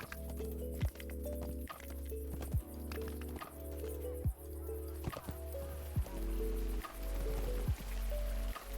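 Game horse hooves in The Lord of the Rings Online: a steady run of clip-clop footfalls, moderately loud and close, over a low droning music bed with no speech.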